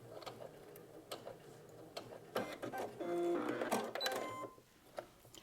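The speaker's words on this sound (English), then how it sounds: "Okay, and I'm going to stop there," A sewing machine makes a brief back stitch, quiet ticking and handling clicks followed by a short, close mechanical whir lasting about a second before it stops.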